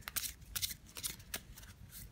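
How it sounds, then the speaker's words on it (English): A Fortune Teller Lenormand card deck being shuffled: quick, soft riffling bursts, close and quiet, repeating several times. "shuffling the cards."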